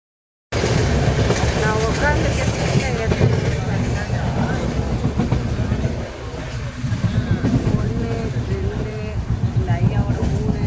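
A passenger train rolls on through Odisha in India with a steady, loud rumble and rattle of wheels on rails, heard from inside the carriage, with a brief dip in the noise midway and voices mixed in.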